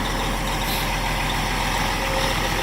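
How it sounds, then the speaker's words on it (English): A 2007 Peterbilt 357 dump truck sits idling, its diesel exhaust note a steady, dense rumble that holds constant throughout with no talk. "Sure has a nice exhaust note too."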